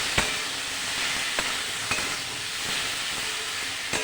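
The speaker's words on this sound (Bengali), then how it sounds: "এইভাবেই ভালো করে ভেজে নেব" Taro stolons (lati) with salt and turmeric frying dry in a pan without water, a steady close sizzling hiss broken by occasional stirring clicks and scrapes.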